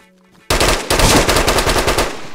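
Rapid burst of submachine gun fire in the survival video game DayZ, loud and close, with dense repeated shots that start abruptly after a short quiet moment.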